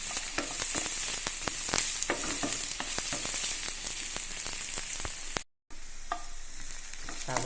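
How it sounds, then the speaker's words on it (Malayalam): Sliced onions sautéing in a pan for a bitter gourd (churakka) masala curry, a steady close sizzle with repeated scraping stirs and a short silent break near the end. "ഒന്ന് വതക്കി വെക്കാം നന്നായിട്ട്"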